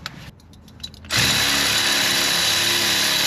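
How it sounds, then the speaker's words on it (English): An electric ratchet whirs into a loud, steady spin on a bolt of a car part after a few brief clicks, running close and unbroken to the end. "Electric ratchet did not do the trick."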